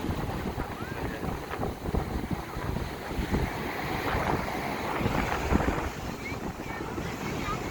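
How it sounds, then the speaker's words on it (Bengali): Sea waves break and roll at Puri beach in a constant surging roar, heavy with wind buffeting against the microphone, with faint crowd voices mixed into the steady surf. "এত ঢেউ।"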